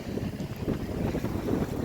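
Cold wind blowing outdoors, a loud continuous rumbling gust buffeting the microphone throughout with no talk.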